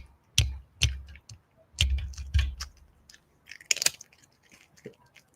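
A pet crunches on crunchy treats up close, a run of sharp, irregular crunches and bites separated by short pauses, quiet and with no talk over them.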